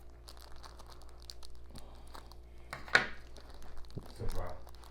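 Scissors snip open a small plastic snack packet holding a scorpion, giving a sharp crinkling cut near the middle followed by rustling plastic, with faint room noise throughout.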